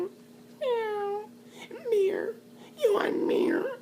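A man imitates a cat's meow with a drawn-out, falling wail, then makes two more rough, yowling vocal sounds close to the mic.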